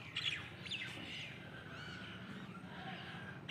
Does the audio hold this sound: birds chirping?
yes